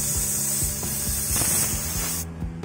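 Refrigerant gas hisses continuously from an air conditioner's yellow charging hose while rapid ratcheting clicks sound beneath it. The hiss cuts off near the end.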